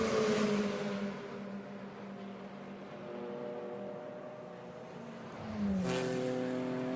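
DTM Trophy race cars lapping the Lausitzring circuit during free practice, a steady high engine drone with shifting harmonics that swells sharply near the end as a car closes in.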